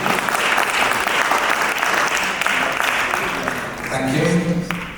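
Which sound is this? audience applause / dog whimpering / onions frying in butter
audience applause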